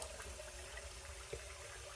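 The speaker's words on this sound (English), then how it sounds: "and then run a little cold water" Cold water runs from a bathroom sink tap in a steady, soft, even rush that stays faint and constant throughout.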